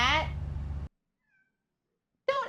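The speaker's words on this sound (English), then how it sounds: "Don't innocently meow." A pet cat meows close by, a clear rising-and-falling call, then a short pause before a second meow begins; a person's voice is heard around it.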